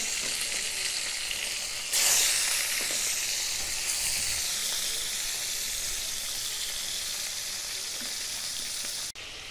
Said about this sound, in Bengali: টাকি মাছগুলো লাল লাল করে ভেজে নিতে হবে।